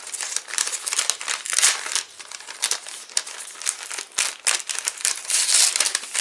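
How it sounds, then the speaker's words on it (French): Crisp, continuous crinkling and crackling of tape being peeled and unwrapped close by, with brief tearing bursts and no voices. "je me bats toujours avec le scotch"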